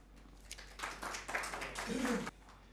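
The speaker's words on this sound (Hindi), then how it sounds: "आपकी भरपूर तालियों में जनाब एजाज़ गिल साहब" Audience at an Independence Day mushaira poetry gathering applauding as the poet is welcomed to the stage, a fairly faint, brief burst of clapping that swells and then cuts off, with a voice sounding near the end.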